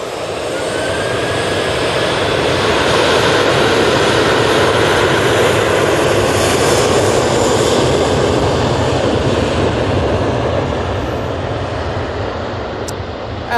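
An Aer Lingus jet airliner passes at Manchester Airport, its engines a loud, steady roar that swells and lingers for the whole stretch without a break.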